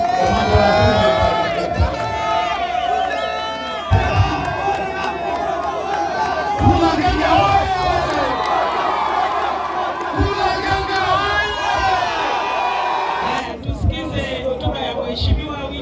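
A large outdoor crowd at a Madaraka Day celebration on primary school grounds roars with sustained cheering and applause, loud and continuous, while an announcer's amplified voice carries over it.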